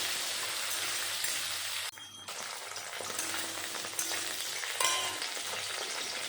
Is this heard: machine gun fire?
no